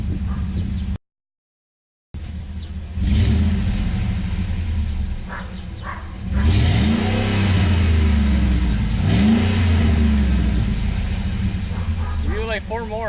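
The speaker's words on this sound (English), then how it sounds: "let's go ahead and start the truck" A truck engine with a new exhaust cranks and starts, then revs up and down with a loud, deep rumbling exhaust, rising and falling in pitch several times.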